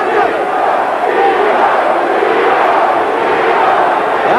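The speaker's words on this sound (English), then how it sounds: "Now the crowd cheering Nino, Nino, Nino as they've come to his side." A dense boxing arena crowd roars and chants for middleweight fighter Nino Gonzalez during a bout with Duran, a loud sustained wall of voices with rhythmic rising swells.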